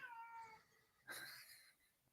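A pet cat meows indoors, first a drawn-out wavering cry and then a sharper, louder meow a moment later, fairly close and with no talk over it.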